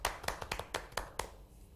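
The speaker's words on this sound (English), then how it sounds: "So a round of applause for Dr." A small group of hands clapping at a nutrition education forum, about seven distinct, sharp claps in an uneven rhythm, close and fairly faint, fading out toward the end.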